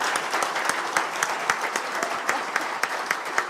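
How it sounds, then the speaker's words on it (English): Audience applause for panelists at the close of an AR/VR panel discussion, dense steady clapping with sharp individual claps standing out, fairly close and loud throughout. "Let's give a round of applause for our panelists."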